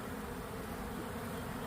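Honeybees buzz at an active hive in early March, a dense, steady, faint hum of many insects with no voices.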